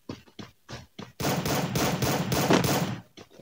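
Gunfire in the video game Free Fire: short bursts at first, then a loud, sustained, dense volley of automatic shots for about two seconds, followed by a few more brief pops.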